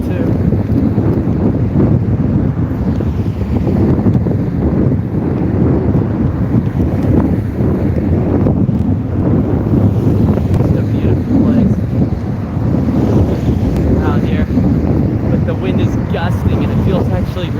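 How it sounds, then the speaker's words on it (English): Strong gusting wind buffets the microphone beside open salt water near Charleston, South Carolina, during a long-distance bike ride: a loud, continuous rumbling roar of wind noise with surging gusts throughout and no clear pauses. "The wind is gusting."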